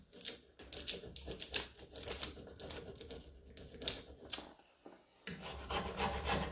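Rubbing a large furniture transfer onto a wooden piece, quiet close scratchy strokes back and forth in an irregular rhythm, with a brief pause before the rubbing resumes.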